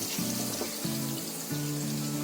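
Potato fritters (aloo bonda) frying in oil for a fasting-day chaat, a soft continuous sizzle and bubbling at low volume, with a few faint tonal beeps rising over it.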